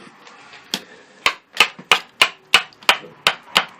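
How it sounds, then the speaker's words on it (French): A knife blade driven into wood by striking its spine with another piece of wood, resting on a wooden support: about ten sharp, hollow knocks, close and evenly spaced, growing more regular, with no talk. "et avec un autre bout de bois en fait vous allez rentrer la lame"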